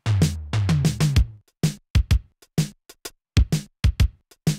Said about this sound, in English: And with MTurboComp,